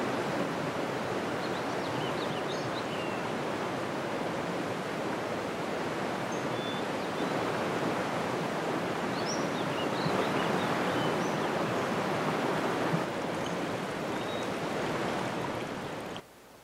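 The Tallulah River rushes down through mountain terrain in a steady, unbroken wash of flowing water that stays even and full throughout, with no voices.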